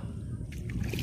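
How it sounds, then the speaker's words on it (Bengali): A wooden village boat being rowed, with soft water sloshing and paddle strokes close by over a steady outdoor rumble, a few faint splashes near the end. "নৌকো বিহার নৌকো ভ্রমণ তুমি বাও তুমি বাও"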